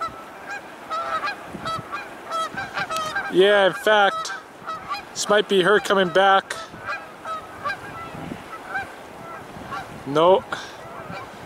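A goose honks repeatedly near its nest by the water, loud nasal calls coming in bursts amid outdoor noise, while a person talks quietly between them.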